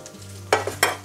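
Meat frying in a pan at home while being cooked with orange, giving a low steady hiss broken by two loud, sharp spatter bursts close by, with no talk.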